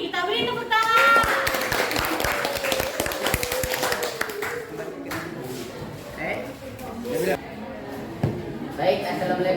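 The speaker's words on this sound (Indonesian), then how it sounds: "Kita beri tepuk tangan." A classroom of students applauds a presenting group, scattered hand claps and taps mixed with chatter and shuffling, while voices talk over the clapping throughout.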